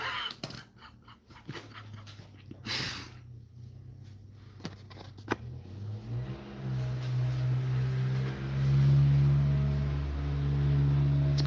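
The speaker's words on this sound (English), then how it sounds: "It's a pretty loud car. And like not in a good way." A loud car engine rumbles outside, its low drone building and swelling over several seconds as it passes, with a few faint knocks and thumps indoors.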